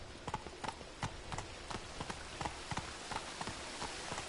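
Horse hooves clip-clop at a steady trotting rhythm while riding in the Witcher 3 video game, soft and even against a faint ambient background.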